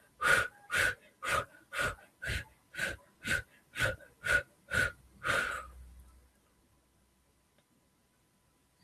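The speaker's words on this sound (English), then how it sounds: "fast breaths out" Twelve fast, forceful breaths out in a steady rhythm, each a sharp close-up exhale of about the same loudness, followed by quiet.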